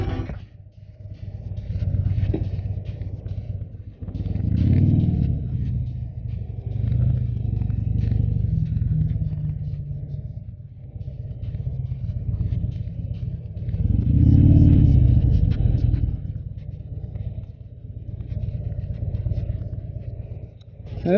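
The engine of a 2016 Harley-Davidson Low Rider motorcycle idles with a deep, loud, steady rumble for about twenty seconds, swelling twice in throaty revs before settling back, with no talking.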